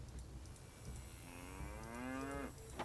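Cow mooing in the Nancy Drew: The Secret of Shadow Ranch video game, a single long, low, drawn-out moo that falls slightly in pitch, fairly close and clear over faint background noise.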